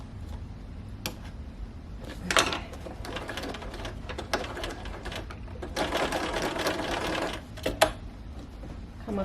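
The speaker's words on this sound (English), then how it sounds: "now you can sew across" A sewing machine stitches across a cushion cover near a zipper in bursts of rapid stitching, pausing between runs, close and fairly loud with no talking.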